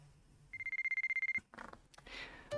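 A cell phone rings in the visual novel White Album 2, a rapid electronic trill of about a dozen evenly pulsed beeps, clear and close, then cut off, followed by brief game sound effects.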